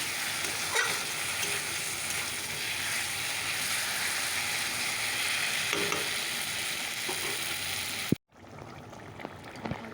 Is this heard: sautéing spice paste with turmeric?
yes